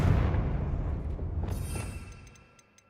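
A Confringo blasting spell explodes in Hogwarts Legacy with a heavy low boom that rumbles and fades over a few seconds, with faint debris ticks trailing at the end.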